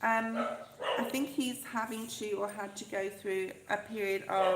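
A talkative pet dog named John barks and yips repeatedly at home, loud and close, in short bursts over a person talking steadily.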